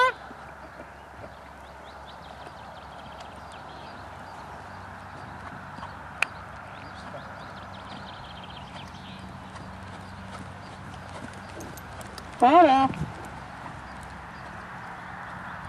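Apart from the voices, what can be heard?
horse trotting in riding lesson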